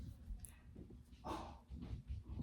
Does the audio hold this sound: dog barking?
yes